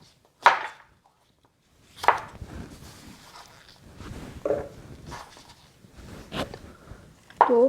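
Knife chopping two medium bell peppers on a board while making watermelon-broth young radish kimchi: a few sharp, separate cuts with pauses between, then a scattered run of lighter taps, fairly close.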